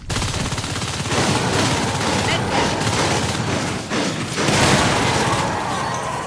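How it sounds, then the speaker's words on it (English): Marines trade gunfire in Natural Selection 2, a sci-fi shooter. Dense rapid bursts of automatic fire run almost continuously with brief pauses, loud and close, under a commentator's voice. "EBH showing us some very, very nice shooting here"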